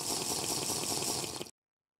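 A flask being filled with water in a modded survival video game: a steady, close, full-band rush of pouring water that runs evenly for about a second and a half, then cuts off abruptly into silence.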